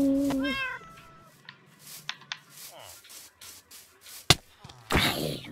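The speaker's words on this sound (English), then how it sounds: "Oh, there's my cat from earlier." A cat in the Minecraft video game meows twice near the start, a clear rising-falling mew, followed by scattered clicks, rubbing and scraping game sounds.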